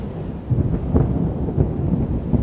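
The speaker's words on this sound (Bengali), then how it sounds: "হঠাৎ ঝমঝম করে বৃষ্টি নেমে এলো" Heavy rain with a deep, rolling rumble of thunder, a steady close wash of downpour with low swells rising and falling over a couple of seconds.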